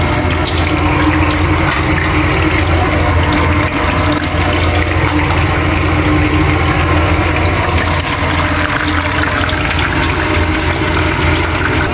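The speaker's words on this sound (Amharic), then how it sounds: "እዚህ ጋር ፍልፍል ደግሞ ቃሪያውን እየጠበስኩ ነው።" Green chili peppers fry in a pan for a chicken and rice dish, a loud, constant rushing sizzle that holds steady throughout, with no talking.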